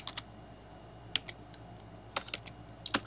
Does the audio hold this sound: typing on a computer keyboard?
yes